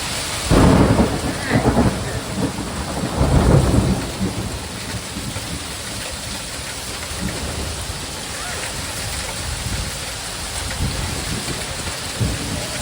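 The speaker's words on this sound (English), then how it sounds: "We are having a major storm, a flash storm outside." Heavy rain pours steadily outside during a sudden flash thunderstorm, with loud rumbles of thunder early on that fade into a continuous wash of rainfall on surfaces.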